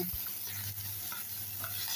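Pieces of catla fish fry in oil in a pan, a dense, even sizzle heard up close and unbroken for the whole short stretch, with faint scraping underneath.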